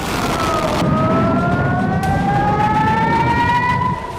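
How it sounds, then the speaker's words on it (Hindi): Air raid sirens wail across Israeli cities, several rising and falling tones overlapping and sliding in pitch over a steady roar of traffic and background noise, loud and continuous throughout. "इजरायली शहरों में सायरन गूंज रहे हैं"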